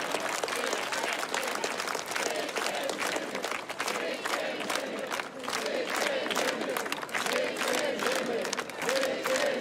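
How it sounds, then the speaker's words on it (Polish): A rally crowd at a voter meeting in Czeladź applauds and cheers for Rafał Trzaskowski, loud sustained rhythmic clapping with shouts and chanting voices rising through it. "Wielkie brawa, prezydent Rafał"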